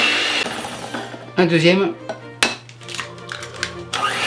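Galette des rois batter being mixed with eggs in a bowl, a whirring mixer running in short loud bursts with clinks of utensils, while a person speaks briefly between the bursts.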